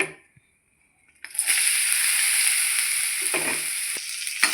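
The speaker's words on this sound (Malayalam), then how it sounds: "ചട്ടി ചൂടായപ്പോൾ നമുക്ക് ലേശം എണ്ണ ഒഴിച്ചു കൊടുത്തിട്ട് ഇതിനകത്തേക്ക് തേങ്ങ ഇട്ട് കൊടുത്ത് വറുക്കാം" Coconut hits hot oil in a pan after about a second of near silence. A loud, bright sizzle bursts out and then crackles on steadily, with a few stirring knocks.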